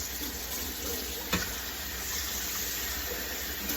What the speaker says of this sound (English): I'm gonna rinse this one out a little bit.